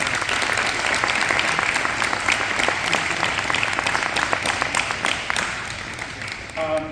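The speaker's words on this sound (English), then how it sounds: "I would just like a round of applause for what he does." Banquet crowd at a middle school girls' basketball event applauding their coach, sustained, full clapping from many hands that carries steadily for several seconds before easing off as someone begins speaking.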